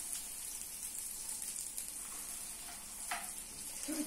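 Food frying in a little oil in a pan for a simple breakfast, a soft steady sizzle with faint crackles and a brief louder spatter near the end, close and without talk.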